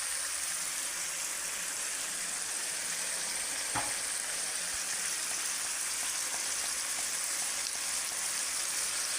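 Chicken meat fries in a pan in a continuous dense hiss, a steady near sizzle like rushing water, with one brief knock partway through.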